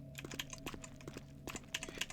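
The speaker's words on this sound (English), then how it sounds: "These keyboard presses come through loud and clear on the microphone" A computer keyboard clicks through a quiet stretch as keys are pressed in an uneven run of soft taps, picked up faintly by a nearby microphone over a low steady hum.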